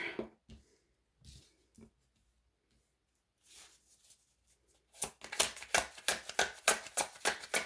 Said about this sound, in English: We shuffle on camera here